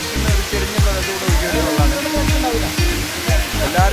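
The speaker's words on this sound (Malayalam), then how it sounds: "നല്ല വെള്ളച്ചാട്ടമാണിത്" A broad, spreading waterfall on a forest route between Valparai and Pollachi, rushing steadily and loudly close by, with a rhythmic low thumping running underneath throughout.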